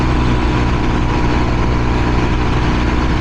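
A Honda Trail 125 motorcycle with a big aftermarket exhaust runs with a loud, steady, low engine rumble, close up and unbroken on a Kentucky road ride.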